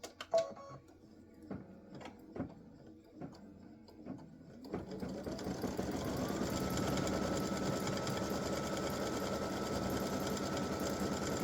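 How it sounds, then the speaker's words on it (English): An embroidery sewing machine stitches the small cut line for a Christmas gnome appliqué, a few sharp ticks giving way to a steady, loud, close whir that runs on for several seconds with no talking. "now color stop number 2 is going to stitch the cut line"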